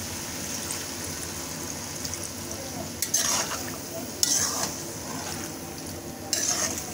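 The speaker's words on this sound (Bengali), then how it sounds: "দিয়ে এটাকে ভালো করে নাড়তে হবে আর নাহলে জিনিসটা দলা দলা হয়ে যাবে" A dissolved milk powder and cornflour mixture stirred into vegetables in a pan, with a steady sizzle broken by a few sharper scraping strokes and clinks of the utensil.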